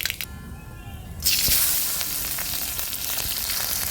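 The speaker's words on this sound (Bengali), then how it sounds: "কড়াইয়ে তেল দিয়েছি এরপরে দিয়ে দেব অল্প কটা সর্ষে সর্ষেগুলো যখন চটপট করে ফুটবে" Mustard seeds and green chillies hit hot oil in a kadai, and after a quiet start a loud sizzle erupts and holds steady, with faint crackling pops through it.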